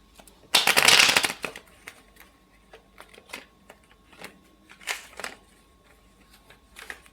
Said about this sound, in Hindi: काफ़ी टाइम के बाद मैंने सोचा इस तरह से मैं कार्ड्स को शफल करूं